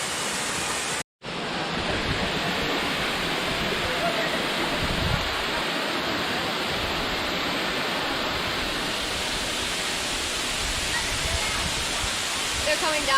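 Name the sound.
waterfall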